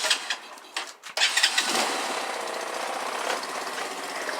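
A Honda Grom clone motorcycle cranks with a few quick mechanical clatters, then fires and settles into a steady, close, buzzy running note that holds to the end.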